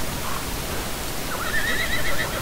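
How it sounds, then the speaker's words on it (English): A horse whinnies in Elder Scrolls Online, a rising and falling neigh over steady rain-like ambient noise, heard alone without talk. "Look at my horse."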